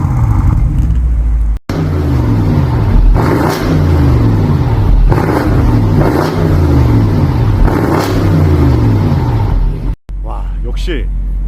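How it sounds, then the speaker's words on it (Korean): BMW M850i with a V8 engine, Brillante valved exhaust and carbon muffler tips, revving repeatedly in rising and falling bursts. The exhaust sound is loud and close, and it runs nearly continuously with two brief cuts. "역시 이렇게 M850i만의 8기통 배기음 아주 멋있게 잘 나옵니다."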